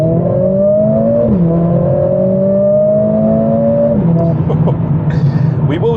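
A 420 hp Mercedes CLA45s AMG driving in race mode, engine droning loud and close from inside the cabin as revs climb through the gears with quick drops at each shift.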